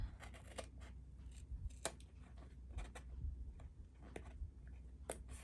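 Scissors snipping paper for a winter-themed art journal, a series of short, irregular crisp cuts close by in a quiet room.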